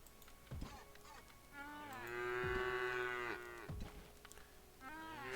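A cow in the video game Craftopia moos several times, with a short low call early on, then a long, loud, drawn-out moo in the middle and another shorter moo after it. Nobody speaks.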